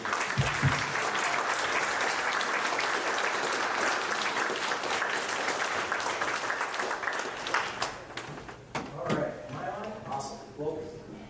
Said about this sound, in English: give a hearty Highland applause for Pastor Doug